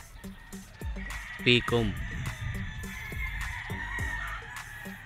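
A Grey yellow-legged gamefowl stag crows loudly once at a game farm, amid other roosters crowing and clucking nearby, while someone talks over the birds.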